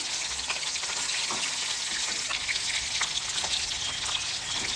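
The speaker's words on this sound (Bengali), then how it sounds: "মাছগুলো ভাজা হয়ে এসেছে" Soft hilsa fish pieces frying in oil, a continuous close sizzle with fine crackling and scattered pops running evenly throughout, with no talking.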